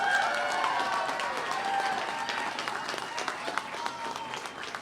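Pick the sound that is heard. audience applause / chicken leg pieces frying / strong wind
audience applause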